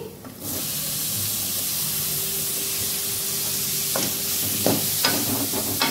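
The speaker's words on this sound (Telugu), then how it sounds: "ఇప్పుడు ఇందులో టమాటాలు వేసుకుందాం. ఒక 2 టమాటాలు అండి." Two tomatoes fry in a pan of hot oil with turmeric, giving a loud, steady sizzle and hiss throughout, with a few scraping clinks of a utensil near the end.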